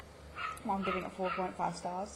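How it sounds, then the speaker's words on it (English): A dog barks a few times somewhere in the background, short yips mixed under a woman's close, steady speech and partly masked by it. "If you hear the dog bark in the background"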